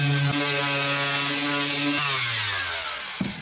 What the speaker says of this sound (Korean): 칠하기 전에 항상 샌딩 작업을 하고 시작을 합니다.